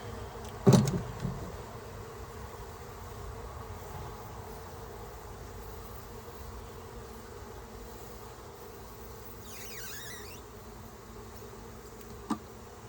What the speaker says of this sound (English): you can just go ahead and know this box is full of bees.